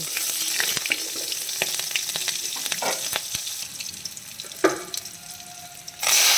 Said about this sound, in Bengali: তো এখন ওই তেলেই একটু জিরে, শুকনো লঙ্কা ফোড়ন দিয়ে, এই কাঁচা লঙ্কা দিয়ে একটু ভাতের ঘন্ট করব